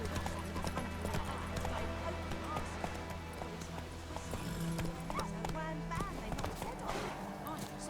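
Roach, a horse in the video game The Witcher 3, gallops with steady, fairly loud clip-clop hoofbeats over layered game music and ambience, a brief whinny-like call in the mix.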